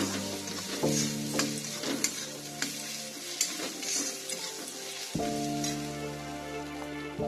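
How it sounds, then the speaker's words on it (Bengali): Spice masala with cumin powder stir-fried in a pan for a katla fish-head curry, giving a steady close sizzle broken by repeated spatula scrapes and a brief lull midway, with no talking. "মশলাটা খুব ভালো করে নাড়াচাড়া করে নিয়েছি"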